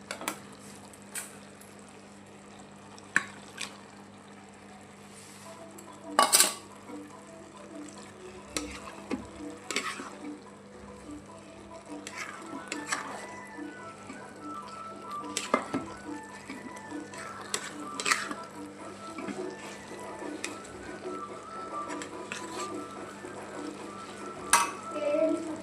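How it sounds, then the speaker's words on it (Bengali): Chicken pieces go into a pot of half-boiled rice for biryani, producing scattered clinks of a spoon against metal, soft stirring and handling noises, and a faint steady hiss of cooking underneath, with occasional louder knocks spread across the stretch. "এখন মাংসগুলো দিয়ে দিব।"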